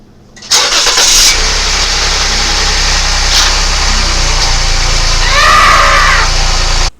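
Car engine cranks and catches after an oil pan leak repair with the car raised on jack stands, then settles into a steady, loud idle with a brief rev near the end; no talk.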